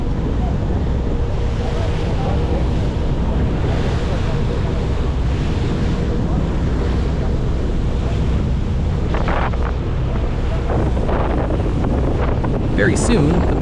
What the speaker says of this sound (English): And we are moving, creating white foam in the water once again.